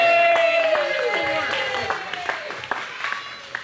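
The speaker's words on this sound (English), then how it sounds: "Big round of applause for her" An audience at the 713 Hearse Show 2019 awards claps for the adult runner-up. Scattered claps rise under voices and a held tone, continuing for a few seconds.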